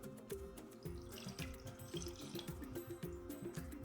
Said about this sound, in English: First, I'm going to add a bit of water,